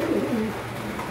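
A racing pigeon hen with eggs gives a brief, soft, low coo over a steady background hum.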